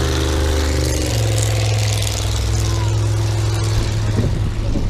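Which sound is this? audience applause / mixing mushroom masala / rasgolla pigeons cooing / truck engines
truck engines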